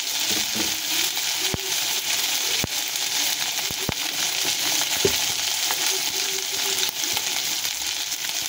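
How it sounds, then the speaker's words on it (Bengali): Garlic fries in a pan for Kashmiri aloo dum, giving a steady, close hiss and sizzle with scattered pops and crackles and occasional clinks of stirring throughout. "রসুনটা ভালো করে ভেজে নিতে হবে আমাদেরকে"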